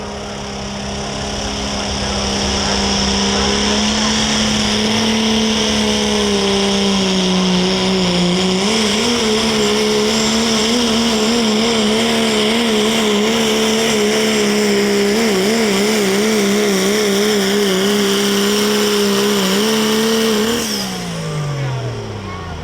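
A loud, sustained engine roar from a heavy diesel pulling truck at a truck pull in Tampico, Indiana, under strain, pitch wavering as it pulls, then dropping off near the end.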